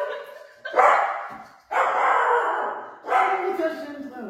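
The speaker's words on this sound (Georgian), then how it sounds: "ეს ჩვენი ძაღლი" A household dog barks in several loud bursts close by, separated by short pauses, with people talking over and around it.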